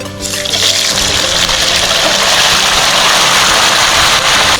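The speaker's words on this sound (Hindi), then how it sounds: "अब हम इसके अंदर अरबी डालते हैं और इसको फ्राई करते हैं।" Taro root (arbi) fries in a kadhai of hot oil, a loud, steady broadband hiss that fills the whole stretch without a break.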